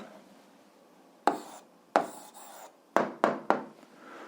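Pen or chalk writing out an answer to an eighth-grade algebra exercise, with a handful of short scratchy strokes and taps spaced irregularly against a quiet background.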